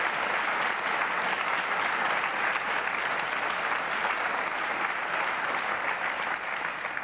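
Large stadium crowd at a DFB-Pokal football cup match, FC Bayern München against FC Homburg, applauding loudly and continuously in a steady roar of clapping with no pauses, distant and diffuse.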